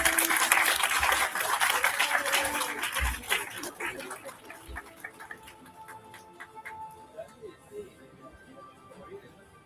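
Applause for award winners at a livestreamed award ceremony: a broad wash of clapping that starts loud, then slowly thins and fades over several seconds.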